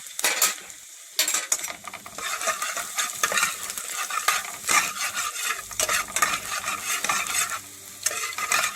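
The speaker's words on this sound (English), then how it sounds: "I'm adding some garlic" Garlic hitting a pan for frying before beef curry, heard as busy clattering and scraping of a utensil against the pan in irregular bursts over a light sizzle.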